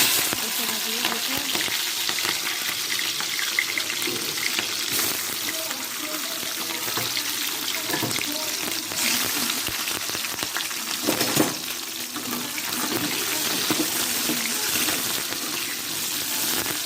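Capsicum fries in a pan for an Odia paneer masala. A loud, continuous sizzle carries throughout, broken by occasional stirring scrapes, heard up close.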